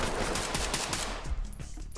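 Rapid automatic gunfire in the tactical shooter Ready Or Not, loud, dense bursts of shots for about a second and a half that thin out to a few scattered cracks and echoes, with no voices.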